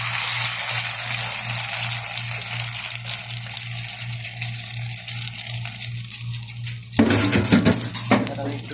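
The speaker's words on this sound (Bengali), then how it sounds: "দেখেন আমার তেলটা গরম হয়ে গেছে, আমি এখন যে ডিমটা করছিলাম ডিমটা ঢেলে দিতেছি এখানে।" Beaten egg poured into hot oil in a pan, starting with a steady sizzle and clatter of utensils, then a sudden louder hiss and burst of crackling as the egg hits the oil.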